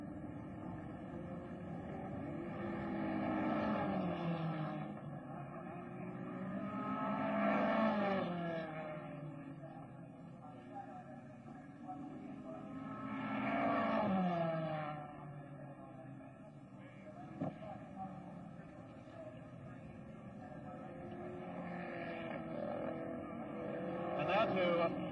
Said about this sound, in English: There goes Bruce McLaren round Polo Corner, accelerating up the short straight to Ledger once again.